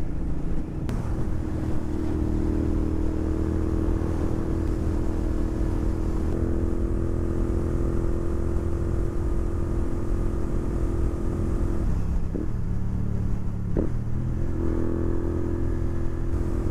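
A Royal Enfield GT650 motorcycle cruises on a highway, its engine holding a steady, loud droning hum with wind rush, shifting pitch slightly around a couple of brief gear changes.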